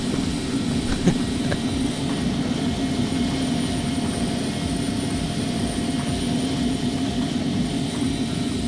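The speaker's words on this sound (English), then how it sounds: "There's a 380 about to take off there, and a 737." An Airbus A380 takes off in the X-Plane 11 flight simulator, a loud steady jet engine roar with a broad rumbling hiss holding constant throughout.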